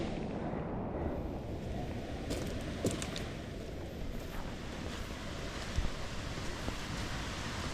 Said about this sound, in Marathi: इथे धबधब्याचा आवाज येतोय लेफ्ट साईडने.